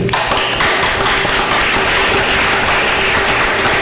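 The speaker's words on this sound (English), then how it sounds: "I would really like everyone to give Mrs. Conrad, who worked so hard, a round of applause" Applause from the audience at a board of education meeting, a dense, steady patter of clapping that fills the room for several seconds at high, even loudness.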